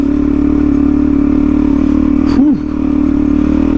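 A motorcycle engine drones steadily at low revs in first gear on a Snowy Mountains trail, with a brief rising-and-falling rev around the middle before settling back to a constant hum.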